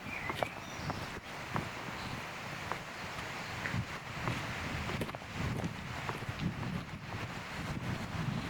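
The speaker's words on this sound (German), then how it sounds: "vielleicht hört ihr das so ein bisschen, hat der Wind wieder zugenommen" Wind gusts steadily and noisily along a Black Forest hiking trail, a continuous broadband roar buffeting the microphone, with occasional rustles and faint footstep-like knocks and no talking.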